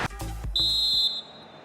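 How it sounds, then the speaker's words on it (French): In a FIFA 23 Premier League match between Manchester City and Arsenal, the referee blows a single sustained whistle ending the first half, sharp and clear after a few dull thuds, then fading away. "L'arbitre qui siffle maintenant la fin de la première mi-temps"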